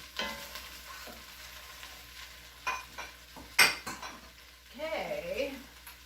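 A spoon stirs Creole-style jambalaya in a pot over lowered heat, with soft scrapes, a sharp clank against the metal and a low background sizzle in a quiet kitchen.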